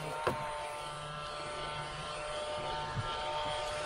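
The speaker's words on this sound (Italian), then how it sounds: "La nostra aspirapolvere del Lidl qua è troppo forte" A battery-powered Lidl handheld vacuum cleaner runs indoors with a steady high-pitched whirring motor hum, close and continuous, with a couple of faint knocks.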